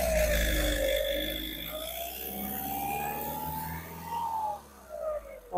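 A 2017 Skoda Rapid Ambition diesel engine revs up and down as the accelerator is pressed, the pitch rising and falling in smooth sweeps over a steady idle rumble, heard close.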